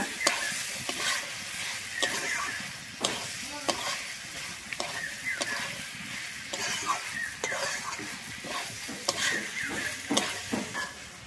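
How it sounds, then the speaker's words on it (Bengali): Fried potatoes and peas being stirred into a sizzling masala in a pan, a steady frying hiss with repeated scraping and clinking of the spoon, close and continuous. "আমি আলু আর মটরশুঁটিটা দিয়ে খুব ভালোভাবে মশলার সঙ্গে মিশিয়ে নেব।"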